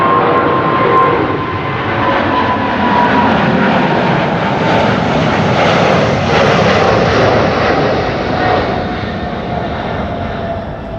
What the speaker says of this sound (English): Widebody's taking off, A380 landing, BA special livery.